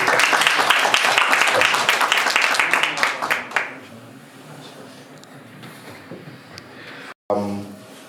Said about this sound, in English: Please, a round of applause for Professor.